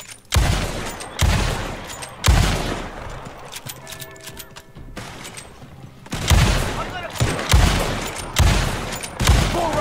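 Gunfire in Red Dead Redemption 2 Online during a bounty hunting shootout, repeated loud sharp shots in irregular clusters, some close and booming, with a brief lull midway where other game sounds continue.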